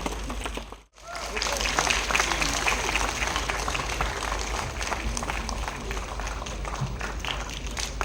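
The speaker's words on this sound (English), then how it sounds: "Can we have a big round of applause as we welcome our dignitaries this evening?" A large audience at an evening awards ceremony applauds to welcome dignitaries, a sustained wash of clapping and crowd noise after a brief pause, dense and continuous throughout.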